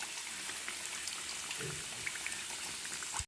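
Egg puffs frying in hot oil in a pan, a steady, dense sizzling and bubbling that holds at an even level throughout, close and alone with no talking, then cuts off abruptly.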